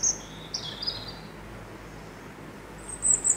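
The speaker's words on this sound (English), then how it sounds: "This singing bird name is Robin." Robin singing, a few short high chirps and trills at moderate distance over a quiet background, with a brighter burst of song near the end.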